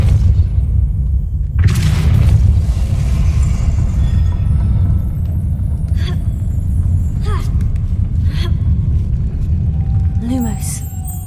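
A Depulso spell impact in the Hogwarts Legacy video game lands as a sudden deep boom with a bright crack, then trails into a heavy, sustained rumble, with smaller knocks and scrapes following near the end.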